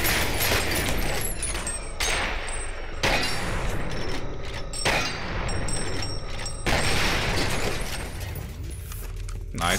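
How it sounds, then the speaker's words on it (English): Explosions and gunfire in the video game F.E.A.R., a loud, continuous barrage of blasts and crashes with several sharp bursts throughout. "What exploded now?"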